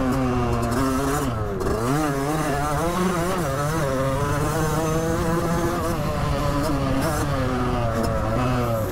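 A Derbi 50cc motorcycle engine revs continuously while being ridden, a loud, steady buzzing drone with rising and falling pitch sweeps as the throttle changes.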